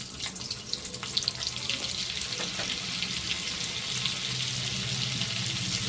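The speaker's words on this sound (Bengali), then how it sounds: "সাদা তেলের মধ্যে দিলাম এই যে মাখন।" Butter sizzles in hot white oil in a pan, a busy crackle with sharper pops early on that settles into a steady fry, no voices.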